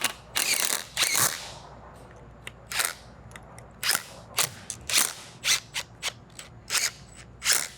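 Ratchet running down bolts on an RB1200 centrifugal blower bearing housing; a series of crisp, close ratcheting bursts, some longer and some short, spaced irregularly with quiet gaps between and no talk.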